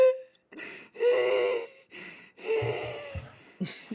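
Several sharp, strained gasps for air from a person, broken by short pauses, close and fairly loud, with no speech over them.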